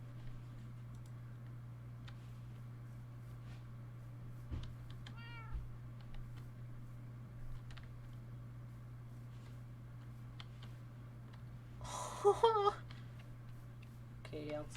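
Tiny cat in a blocky video game gives a short meow, then a louder burst of mewing over a constant low electrical hum, with faint ticking and clicking nearby.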